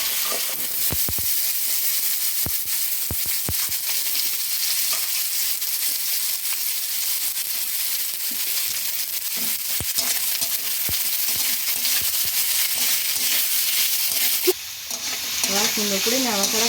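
Potato pieces fry in hot oil with two cardamom pods, two cloves and curry leaves. A loud, steady sizzle runs throughout, and a few stirring scrapes and knocks sit under it, near the close.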